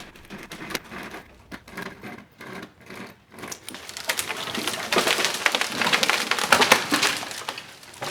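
Creaking and cracking build into a loud, crunching rush of splintering wood and snapping branches as a leaning, tangled tree cut with a rope saw comes down, close and unbroken by talk.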